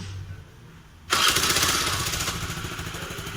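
A Bajaj Pulsar motorcycle with a cut silencer pipe starts up after a quiet moment and settles into a loud, raspy, unmuffled running rumble close by.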